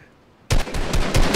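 In Fortnite Battle Royale, a sudden loud burst of rapid gunfire erupts after a quiet moment, with several close, punchy shots in quick succession.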